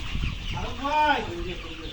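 Layer hens on a poultry farm of over 3000 birds in Dimla, Rangpur, give a short clucking call up close, with low background murmuring and faint talk.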